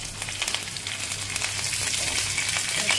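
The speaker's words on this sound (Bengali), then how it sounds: "এইবারে দেব কারি পাতা।" Curry leaves dropped into hot oil with tempered spices, with potatoes frying in the pan, giving off a dense, steady crackling sizzle, close and continuous with faint spattering pops and no talk.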